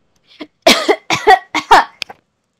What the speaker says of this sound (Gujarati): ઉંમર થઈ ગઈ એટલે ઉધરસ તો આવતી રહે